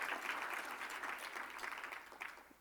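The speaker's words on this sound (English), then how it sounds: "Can I get another round of applause for that?" Audience applause fills the hall after a cancer care panel discussion, a steady dense clapping that holds for a few seconds and tapers slightly at the end.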